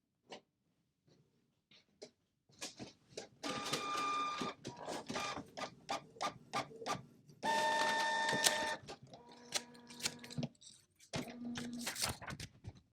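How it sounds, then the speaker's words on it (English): A printer turns out a shipping label in bursts of mechanical whirring and clicking, with short feed pulses and pauses between them, close and fairly quiet. "We are printing this."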